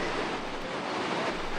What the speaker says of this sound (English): Falls is really loud at this point